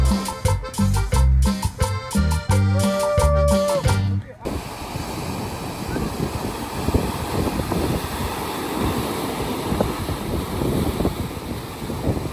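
Strong wind buffeting the microphone and rushing ocean water on a speedboat out at sea off Mauritius, a continuous loud roar and hiss following a burst of music, with a voice talking over it.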